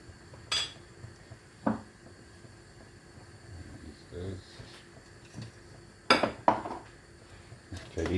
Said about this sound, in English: I'll go in with my 2 tablespoons of capers.